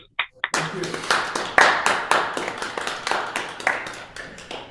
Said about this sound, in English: a big round of applause for all our tellers